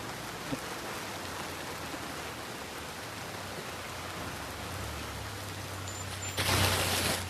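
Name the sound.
rain falling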